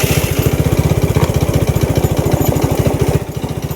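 Small engine running fast with a rapid, steady chugging pulse, loud and close, dropping slightly in level near the end as the revs ease.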